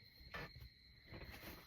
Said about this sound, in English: enjoy the sound of the crickets while I eat my soup